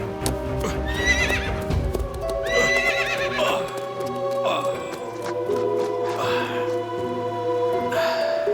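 A horse neighs several times in loud, shrill whinnies, while hooves clip-clop on a hard surface close by.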